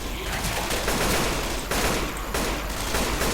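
Dense automatic gunfire from several weapons in Left 4 Dead 2, continuous rapid bursts filling the whole stretch at loud, near level, with no speech.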